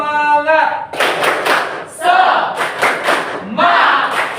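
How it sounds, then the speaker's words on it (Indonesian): A class of students stand and perform a rhythmic spirit clap in their classroom, bursts of patterned clapping alternating with shouted group chants, led by a teacher's voice. "mari kita ice breaking, tepuk semangat"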